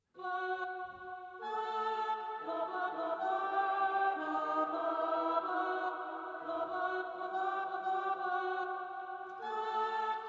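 A choir sings a sustained, layered melody with stepwise note changes, steady and full throughout with no strings and no talking.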